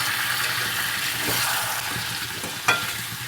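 Pre-fried potatoes tossed in with chicken sizzle in a pan over medium flame, a steady close frying hiss with stirring clinks and one sharp knock near the end.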